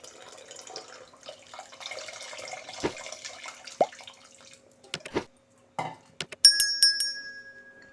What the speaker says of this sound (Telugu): ఇప్పుడు ఏం చేద్దామంటే కొంచెం నిమ్మకాయ సైజ్ అంతా చింతపండు పులుసు వేసుకుందాము.